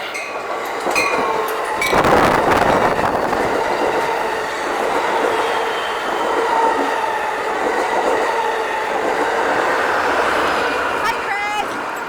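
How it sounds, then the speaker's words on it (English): A train rumbles past on a public street in San Clemente, its loud steady roar and clatter running throughout, with a brief wheel squeal near the end and people talking over it. "There's a train."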